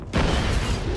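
A grenade bursts in the co-op shooter Army of Two: a loud, close, broadband blast filling the whole moment with heavy low rumble.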